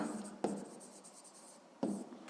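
A pen writing out a sixth-grade math solution on paper, with faint scratchy strokes and two sharper taps of the pen touching down, quiet and close with no talk.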